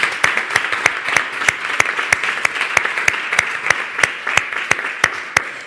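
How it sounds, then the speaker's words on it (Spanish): A roundtable audience applauds at a workplace talk event, a steady spread of many hands clapping with sharp individual claps standing out, close and moderately loud, sustained without pause. "vamos a dar un gran aplauso a Areta por organizar esta mesa redonda y este día"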